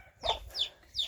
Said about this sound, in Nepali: कुखुराको खोर चाहिँ यहाँ छ। यहाँ अर्को पनि पोथी छ अरे,